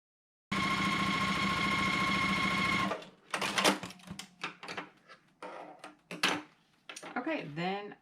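A sewing machine joins white and teal quilt strips, whirring steadily and loudly for a couple of seconds before stopping. Handling noises and fabric rustle follow, with a person speaking nearby.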